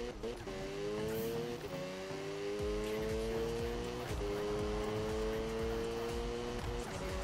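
Mazda RX-7 in Need for Speed 2015 drifts with its engine revving hard, a steady high-pitched motor drone that rises and shifts alongside tire squeal, loud and continuous throughout.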